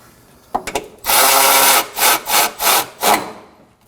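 Bolt on the PCM bracket of a 2014-2020 Acura MDX being snugged up by hand tool beside the washer reservoir, a few clicks followed by a long rasping ratchet run and four short rhythmic ratcheting bursts, close and loud.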